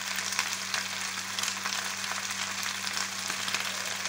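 Chopped onion and garlic fry in a pan with a steady, close, dense sizzle that holds evenly throughout, accompanied by a low background hum and no speech.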